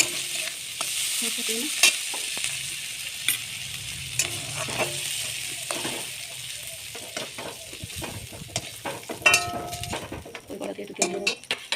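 Oil sizzles steadily in a pan as shrimp fry and a utensil stirs and clinks against the metal, with a voice talking now and then.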